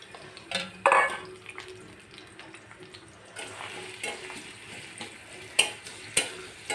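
Chopped onion and garlic fry in hot oil for a dal tempering, a soft, uneven sizzle broken by clinks and scrapes of a utensil against the pan, with a few sharper taps near the end.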